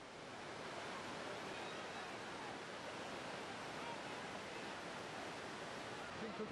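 A waterfall in Sulawesi rushes with a steady, even hiss of falling water, unbroken and fairly soft, with no distinct events standing out.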